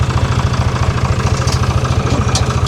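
An old Ford tractor engine idles steadily on a farm in Portugal, a loud, close, rhythmic low chug that keeps an even beat throughout with no talking.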